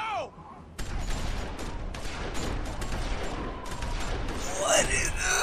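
Rapid gunfire in The Walking Dead video game, a burst of sharp cracking shots following a brief quiet start, continuing densely, with a tonal game sound swelling near the end.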